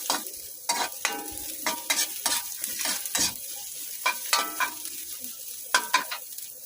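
Onions sautéing in a pan for a ginataang nangka dish, with a steady sizzle broken by repeated sharp scrapes and clinks of a spatula stirring against the metal.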